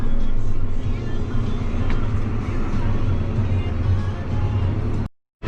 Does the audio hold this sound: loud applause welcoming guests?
no